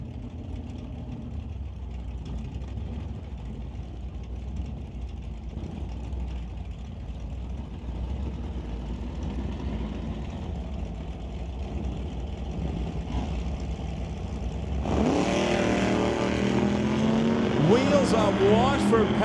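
Old-time drag cars at Mission Raceway Park: a Chevy Bel Air and a straight-axle Dodge Polara run down the track. Engines rumble under an announcer's commentary, then swell into a loud roar near the end.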